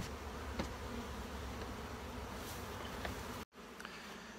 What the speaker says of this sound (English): So we're out shaking bees today.